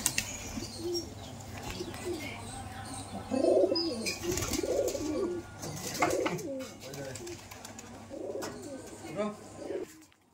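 Giribaz pigeons on a farm coo in repeated soft, throaty phrases close by, with occasional chirps and faint background noise.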